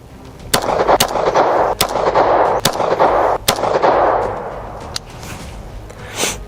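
A Star 30M pistol fires five slow, evenly spaced rounds, each a sharp, loud crack with a short echoing tail, heard alone with no talk.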